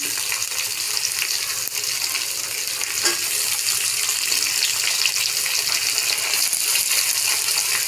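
Chopped onion sautés in oil with green chillies, curry leaves and hing, giving a loud, steady, close hiss and sizzle with faint stirring scrapes throughout.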